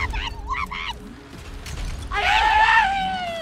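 A gun in the video game Borderlands lets out a shrill, wavering scream, with a few short vocal-like warbles first and then a louder, sustained wail.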